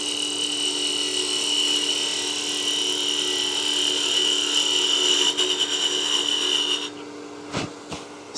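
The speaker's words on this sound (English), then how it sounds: "We'll start out with a peel cut and then we'll go to a slice to just get some clean cut fibers" A lathe makes a peel cut on the wooden end grain of a salt and pepper mill, a steady, loud rasping whine that runs for about seven seconds before the tool lifts off and the spin continues alone.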